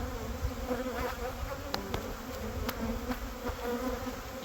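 Honey bees buzz densely and continuously inside a hive in spring, a close, steady droning hum with faint scattered clicks.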